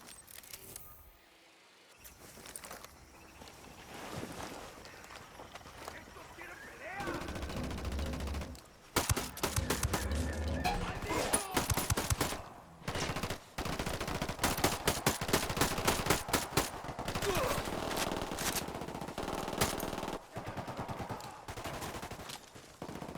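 Sustained gunfire in the video game Ghost Recon Wildlands, with bursts of automatic fire and rapid shots that come in waves and pause, loud and dense over the whole stretch, with some voices in the mix.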